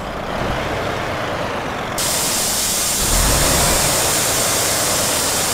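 A truck's lift axle rises pneumatically in Euro Truck Simulator 2, with a sudden loud hiss of released air starting about two seconds in and continuing steadily over the idling engine rumble.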